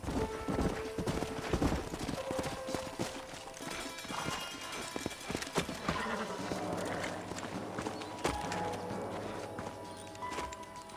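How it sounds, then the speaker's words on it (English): Horse hooves clip-clop in a steady rhythm across a busy, layered soundscape in the video game Red Dead Redemption, with occasional whinnies and no clear speech. "find a spot for our horses"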